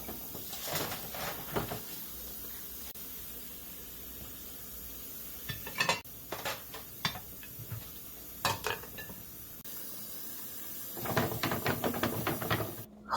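Dishes and glasses clinking and knocking at a kitchen sink in scattered bursts, with running water and a busy cluster of clatter near the end.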